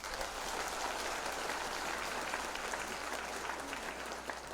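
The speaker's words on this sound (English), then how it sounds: "you deserve to be given another round of applause" An audience at a graduation recognition ceremony gives a round of applause, with dense, steady clapping throughout that sounds a little distant, and no voice over it.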